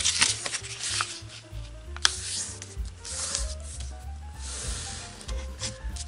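Crisp rustling and crackling of origami paper being unfolded and folded in half, close up, with soft sliding swishes and a few sharper crinkles as the creases are pressed flat.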